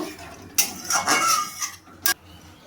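A spoon scrapes and clinks against a pot while soybean kofta curry masala is stirred with water, giving several close, irregular metallic strokes and a final sharp knock.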